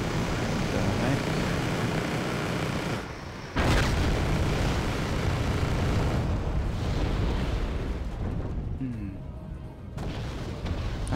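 Loud, dense rumbling explosions and booms in the video game Wargame: AirLand Battle roll on almost continuously, with a sharp burst partway through and a voice talking underneath.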